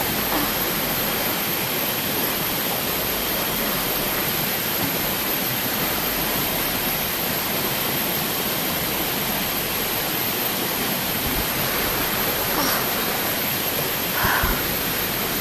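Steady broadband rush of a flowing creek, loud and close, continuous with no pauses and no voices over it.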